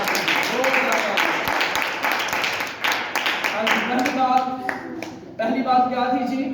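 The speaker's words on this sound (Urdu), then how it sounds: "اپنے ہاتھوں کو لہرائیے اور زوردار تالیاں یسوع مسیح کے جلال کے لیے بجا دیجیے۔" A church congregation claps loudly and rapidly in a dense burst, fading into voices and musical tones toward the end.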